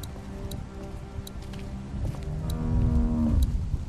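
A cow moos in The Walking Dead Season 1 video game, a drawn-out low bellow that rises in the second half of the clip against a steady game ambience, with no talking over it.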